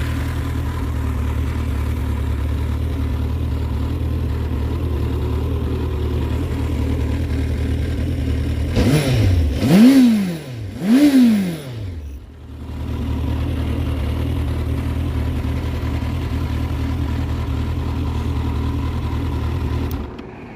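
Suzuki GSX650F motorcycle idling with a steady low rumble, interrupted midway by two quick rising revs or starter bursts before settling back into an even idle, close by with no talk.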